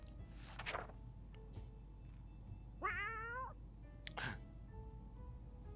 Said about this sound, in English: Did we get a kitty? We got a kitty!